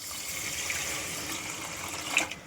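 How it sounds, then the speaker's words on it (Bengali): Water poured into a pot of lentils makes a steady, moderately loud hiss and splash that runs continuously to the end, with a slight surge near the close. "এবার এর মধ্যে দিয়ে দেবো পরিমাণ মতো জল"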